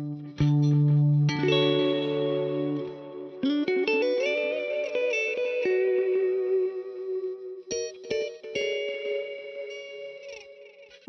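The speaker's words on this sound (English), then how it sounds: "reverb and the delay there just sound wonderful in this plugin" Electric guitar chords and single notes through an amp sim plugin, drenched in reverb and echoing delay, lush and sustained, ringing out loudly with no voices.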